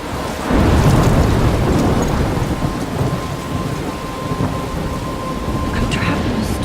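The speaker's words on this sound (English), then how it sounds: "I'm trapped in a storm?" A thunderstorm in the video game Life is Strange brings a loud rumble of thunder rolling in early, then dense, steady rain hissing on surfaces for the rest of the clip.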